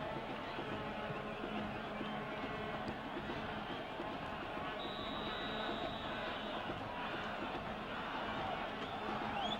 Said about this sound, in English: Crowd shouting, Brazil, Brazil.